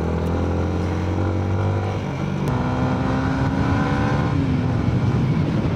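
Yamaha Sniper 155 VVA motorcycle engine droning steadily while riding, close and loud, with the pitch shifting as the rider changes gear partway through, then climbing again under continuous road and wind noise.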